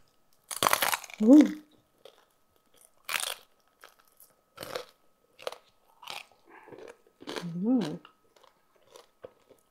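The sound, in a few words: eating crispy lechon kawali (fried pork belly)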